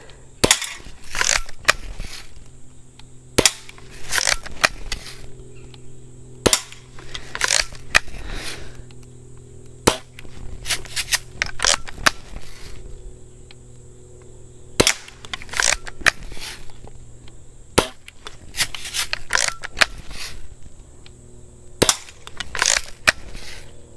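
Repeated sharp gunshots fired at cans during can-cutting target practice, coming in spaced bursts of single cracks, with a steady hum running underneath throughout.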